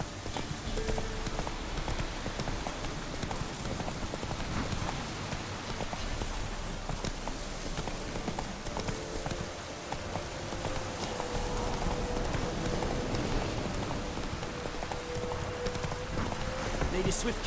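Hooves clip-clop steadily as a horse gallops along a road in The Witcher 3, a continuous rhythmic drumming over rain-like game ambience, with a rider's occasional spoken urging.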